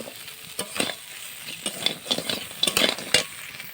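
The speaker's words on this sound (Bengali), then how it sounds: "তো কাঁকড়া তাড়াতাড়ি হয়ে গেছে দেখো বন্ধুরা কাঁকড়াটা এবার ঢেলে নেব" Cooked crab is poured out of a hot pan, giving irregular scraping, rattling clatters of shells and metal over a faint sizzle, in several quick bursts with no voices.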